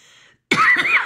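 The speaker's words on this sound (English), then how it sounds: "didn't want to cough in your ear there" A single sharp, close cough from a person, loud and abrupt after a brief quiet moment.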